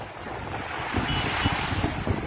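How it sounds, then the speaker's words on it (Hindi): Rushing river water at the Devprayag confluence, a steady broadband roar that swells slightly partway through, with wind buffeting the microphone and no voices. "एक नदी में बिल्कुल आवाज नहीं और एक नदी का अपना अपनी आवाज ही अलग होती है"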